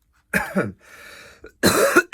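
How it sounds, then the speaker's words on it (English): A person coughs in harsh bursts, pauses with a breathy rasp, then breaks into more rough coughs close by. "I'm having proper coughing fit now"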